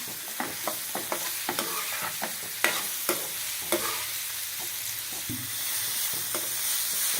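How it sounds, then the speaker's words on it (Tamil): Two chopped tomatoes soften in a hot pan for a potato and tomato side dish. A soft sizzle runs underneath while a spoon scrapes and taps the pan in an irregular stirring rhythm, with no voices. "தக்காளி வதங்கிட்டு இருக்கு."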